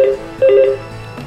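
Two telephone keypad tones beep as a number is dialed to call the gas emergency service, each a short, clear dual-tone burst with a brief gap between, alone and close; no speech.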